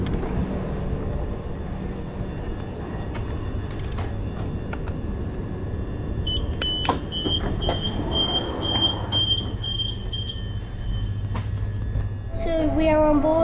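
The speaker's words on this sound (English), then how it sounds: "we are on board the Networker Class 376" Onboard a Southeastern Networker Class 376 electric train, a steady rumble of wheels and motors runs throughout, joined by high-pitched tonal whines and brief clicks, with a rising tone burst near the end.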